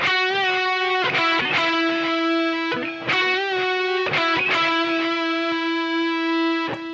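Overdriven electric guitar plays a short Sweet Child O' Mine phrase twice, with string bends and sustained notes, loud and solo, no other instruments.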